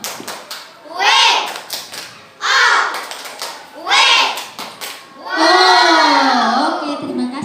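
Young pupils in an Indonesian classroom perform the rhythmic "tepuk wow" clap chant for the red group: bursts of unison chanting with quick taps and claps, rising and falling in short phrases, ending in a longer sustained shout.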